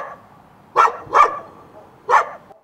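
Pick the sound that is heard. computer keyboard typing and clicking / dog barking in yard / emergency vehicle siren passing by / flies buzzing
dog barking in yard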